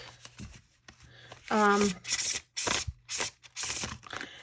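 Brisk bursts of tarot cards being riffled and shuffled, several quick rounds, with a brief voice sounding between them.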